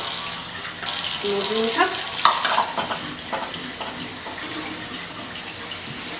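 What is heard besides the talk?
rinsing quinoa under running tap water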